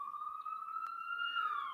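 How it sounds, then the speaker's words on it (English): A police siren wails steadily outside, faint and distant, in a smooth sustained tone that rises slightly as it passes. "Sorry about the sirens."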